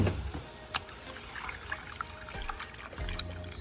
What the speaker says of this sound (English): so now we're going to add our milk.